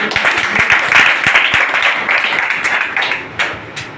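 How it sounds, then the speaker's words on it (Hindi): An audience at a business presentation claps loudly, a close, crisp burst of many hands with sharp individual claps that thins out toward the end. "सर जोरदार तालियां सर"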